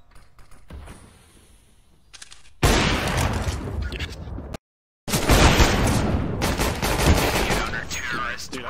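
Rapid gunfire bursts and grenade blasts from the CS:GO video game, loud and dense, starting after a quiet opening, cutting out briefly near the middle and then resuming with sustained firing.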